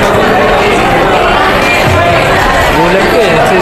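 Guests shout and clamor at a child's seventh birthday party, a loud, dense wall of crowd voices and babble running without a break.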